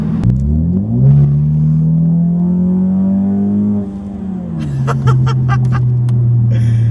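Ford EcoBoost Mustang pulls hard in a straight line, its engine note climbing through the revs, easing briefly and then droning on steady and loud, with faint bird-like chirps near the end.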